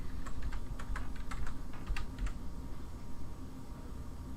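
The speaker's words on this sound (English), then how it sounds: "Okay, what am I typing?" Computer keyboard typing, a quick run of sharp clicky keystrokes in the first half that thins out into quiet room noise, close and fairly soft.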